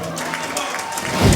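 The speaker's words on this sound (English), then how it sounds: "But the crowd, quite rightly, giving a lot of plaudits to that man in the ring." Wrestling crowd applauding the UKPW champion in the ring, a dense steady patter of clapping that swells louder toward the end, with indistinct crowd noise mixed in.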